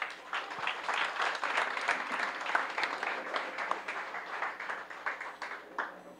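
An audience at a municipal public accountability hearing in Vegachí applauds, a moderately distant, continuous patter of clapping with individual hand claps standing out, lasting several seconds.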